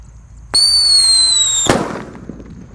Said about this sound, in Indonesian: Di sini ada mercon Black Buster guys.